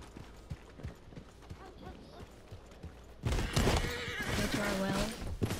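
A horse whinnies and hooves clatter in the Western open-world game Red Dead Redemption 2. Quiet scattered thumps come first, then a sudden loud burst of neighing and galloping noise, with game sounds mixed in.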